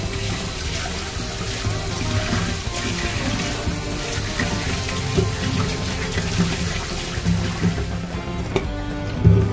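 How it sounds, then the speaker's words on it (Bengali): Running water pours steadily over mackerel fish being rinsed and rubbed by hand in a sink, a loud, continuous splashing wash close by with small clatters and no clear speech. "এবার আবার একটু ভালো করে কষলিয়ে ধুয়ে নিচ্ছি।"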